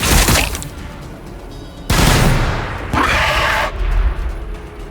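Gunfire erupts in a Warhammer 40,000: Battlesector cutscene, with loud, close bursts of rapid shots and booming blasts in several waves, each one fading into rumbling noise before the next.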